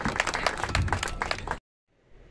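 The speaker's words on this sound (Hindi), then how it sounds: "एक बार जोरदार तालियां" An audience gives a brisk burst of clapping to welcome chief guest Imarti Devi, a BJP minister, at a gathering; the clapping is dense and fairly close, then cuts off abruptly into near silence.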